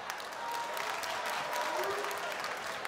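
Audience at a stand-up comedy show clapping in response to the comic's prompt, a steady wash of applause with scattered cheers and crowd murmur mixed in.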